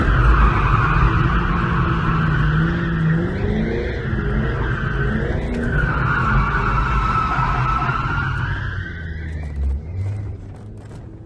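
A C5 Corvette on worn-out tires drifts with a sustained, wavering tire squeal over a loud revving V8 engine, the screech rising and falling for several seconds before easing off.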